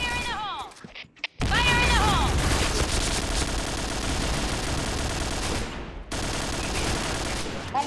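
Dense, sustained automatic gunfire and rapid shot bursts fill an online match of the shooter game Point Blank in clan-war play, loud and continuous after a brief quiet opening, with voices talking over it.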